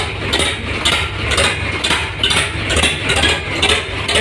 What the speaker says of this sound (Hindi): ये देखिए जिनका ट्रैक्टर है वो जा रहे हैं चलाने। स्टार्ट हो गया